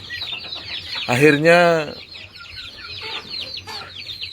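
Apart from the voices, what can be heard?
chickens clucking in a coop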